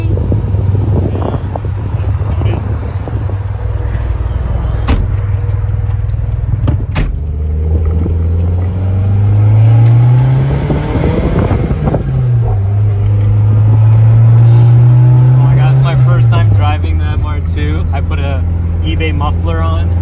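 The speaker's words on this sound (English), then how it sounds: "I finally got to drive the MR2 for the first time" Toyota MR2 SW20 sports car with a swapped gen4 3S-GTE turbo engine and fitted muffler, driving with a steady loud engine drone that rises and falls as revs climb and drop through gears, with wind buffeting and people talking over it.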